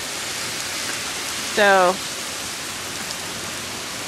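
Steady heavy rain pours as a continuous broadband hiss throughout, with a brief voice rising over it midway.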